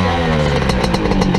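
A dirt bike engine revs steadily up close, with a rough, pulsing mechanical clatter and repeated rises in pitch, and no talk over it.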